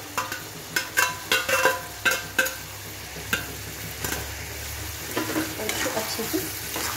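Fried paneer is stirred into bubbling kadai gravy in a dhaba-style kadai, with a burst of quick, loud spatula scrapes against the pan over a constant sizzle that then settles into gentler stirring.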